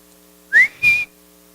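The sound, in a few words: imitated shepherd's whistle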